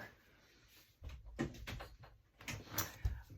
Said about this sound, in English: Let me just close my door.